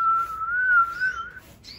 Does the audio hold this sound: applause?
no